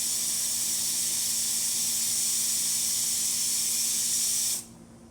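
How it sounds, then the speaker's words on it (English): A Breville Oracle Jet espresso machine's steam wand hisses loudly and steadily for several seconds, then cuts off abruptly near the end, leaving only faint residual noise. "So let's test the steamer too"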